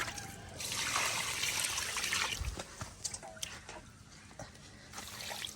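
Water trickles and splashes as it is poured into a cooking pot outdoors while fishermen prepare a meal in Sri Lanka, a soft steady pour that fades toward the end, close and fairly quiet.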